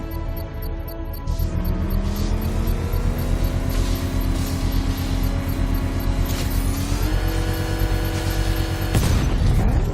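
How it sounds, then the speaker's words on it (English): A steady mechanical drone and rising whine build in a Batman video game before a sharp, loud burst near the end as a bomb's payload is set off in a controlled explosion. "I can use the power winch to trigger a controlled explosion."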